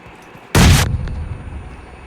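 A single sudden, loud blast of a fuel tank explosion in a shooter video game, a sharp burst followed by a rumbling tail fading over a second or so.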